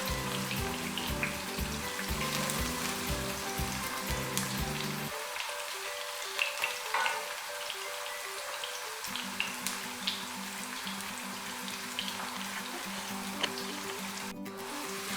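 Onions frying in oil until golden brown while cooking mixed vegetables, a steady, faint crackling sizzle with scattered pops under an electronic hum, continuing without speech.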